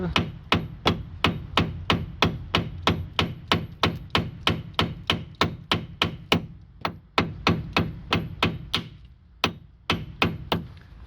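Steady rapid hammering while working on the front brake of a Renault Megane: a long run of sharp metallic blows at an even pace, close and loud, with a short pause before the strikes resume.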